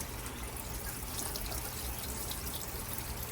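Blueberries being washed under running tap water in a kitchen sink, a steady, close hiss of flowing water that continues evenly throughout with no talking.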